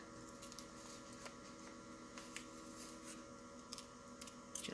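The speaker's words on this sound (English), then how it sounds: "so I can cut that word out." Scissors snip a paper word out of a mail advertisement, with faint, scattered cuts close by over a low steady hum, getting a bit quicker toward the end.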